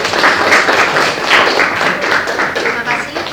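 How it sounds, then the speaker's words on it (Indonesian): A classroom of students applauds a classmate, a steady dense clapping that fills the room at close range with a few louder taps poking through. "Ayo tepuk tangan dulu buat Nisrina"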